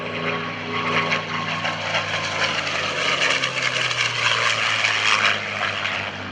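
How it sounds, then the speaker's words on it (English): A P-51D Mustang propeller fighter makes a photo pass from right to left at the 2011 Boston Portsmouth Airshow at Portsmouth International Airport, its engine a steady, loud, droning roar that holds for the whole stretch with no talk. "a nice top plan form view of the P-51D Mustang as he executes from right to left a photo pass"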